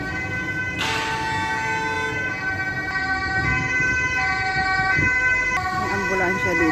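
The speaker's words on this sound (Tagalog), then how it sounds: "Ambulansya dito. Ambulance." An ambulance siren wails loudly down an Amsterdam street, its rising and falling tones continuous over nearby traffic noise.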